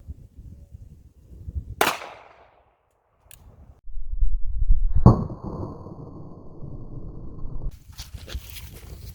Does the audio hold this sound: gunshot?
yes